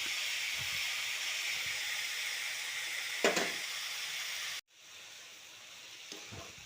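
A beetroot stir-fry with salt hisses loudly and steadily in a pan, then drops suddenly to a softer, muffled sizzle once the pan is covered with a lid.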